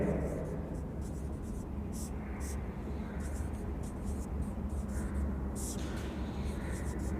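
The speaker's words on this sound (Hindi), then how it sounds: "मैं लिखता हूं प्रत्येक वलय" Chalk or marker strokes on a classroom board during a BSc mathematics lecture give short, scratchy taps and squeaks in irregular bursts over a steady, noisy room hum.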